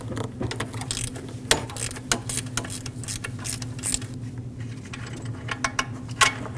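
Ratchet clicking rapidly as it loosens a 15mm alternator bolt on a 2009-2010 Dodge Ram 1500 with a 5.7L V8, a close, continuous ratcheting with uneven bursts and a steady low hum beneath.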